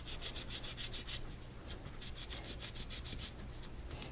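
A hand wipes grime and carbon off a Canik Elite SC pistol with a cloth, giving continuous close, soft rubbing and scrubbing strokes in a quick, steady rhythm.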